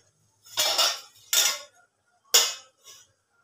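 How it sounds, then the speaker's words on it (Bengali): Lid set over a pot of soybean curry on the stove: three or four separate metallic clatters, each clear and close, with short silences between them and no voices. "এবার আমি ঢাকা দিয়ে কিছুক্ষণ রেখে দেবো, গ্যাসটা বন্ধ করে দেব।"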